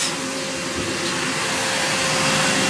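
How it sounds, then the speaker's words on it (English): A vacuum cleaner sucks up debris inside a '57 Chevy under repair, giving a loud, steady, unbroken whine and rush of air with no talk. "She's sucking all the mess out of there that I've just made from fixing this."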